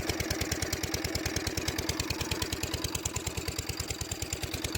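A diesel farm machine engine chugs steadily nearby with a fast, even knocking rhythm, running loud and continuous with no voices.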